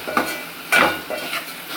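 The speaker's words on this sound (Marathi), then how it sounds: "आता वाटण टाकत आहे वहिनी छान पैकी." Thick, refrigerated spice paste (vatan) stirred and frying in a pan, with soft sizzling and a few brief scraping strokes of a spoon on the pan, close and moderately loud.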